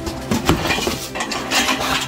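Metal parts of a rotary tiller attachment for a brush cutter clink and clatter as they are handled during unpacking, several close, sharp knocks and rattles.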